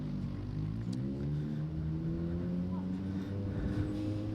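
A race car at Claremont Motorsports Park drives into the pits, its engine a steady, moderately distant drone with shifting tones, with a commentator speaking faintly over it.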